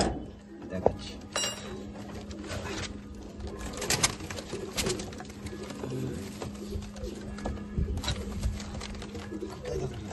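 Racing pigeons coo softly in a loft, with low repeated coos and fluttering under nearby clatter, while people talk throughout.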